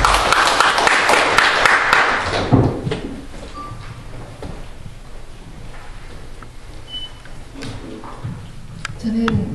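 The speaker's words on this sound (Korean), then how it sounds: "힘찬 박수로 모시겠습니다" Applause from an audience welcoming a lawmaker to the podium at a joint opposition-party press conference, a dense burst of clapping for about two seconds that then dies away into a quiet room.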